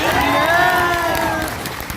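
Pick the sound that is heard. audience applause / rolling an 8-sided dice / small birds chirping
audience applause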